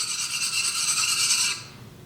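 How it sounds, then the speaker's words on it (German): Screwdriver tip dragged hard across the surface of an infrared heater panel, a single harsh rasping scrape lasting about a second and a half before cutting off, close and alone. "möchte ich Ihnen jetzt den Test mit dem Schraubenzieher zeigen"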